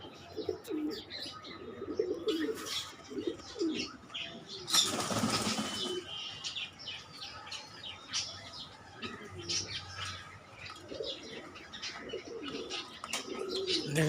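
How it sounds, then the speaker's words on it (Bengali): Pigeons on a farm coo and chirp in low, steady murmurs, with a loud burst of flapping wings near the middle of the clip and further scattered calls continuing throughout. "তো বেশি কথা না বাড়াই কবুতরগুলো দেখে আসেন।"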